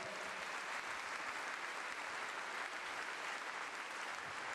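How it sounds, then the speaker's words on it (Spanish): Steady, dense applause from a church congregation during a sermon, a loud even wash of clapping that fills the whole stretch with no voices. "Eso merece un aplauso si lo estás entendiendo bien."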